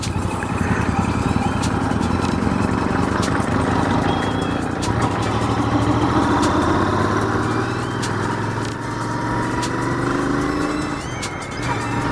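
A motorcycle engine drones steadily while riding along a forest road in Jim Corbett National Park, the continuous rumble loud and close, with small rattles and ticks over it.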